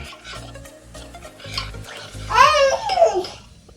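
A baby coos and babbles in rising, sing-song bursts, while nearby spoon scraping and stirring taps come and go.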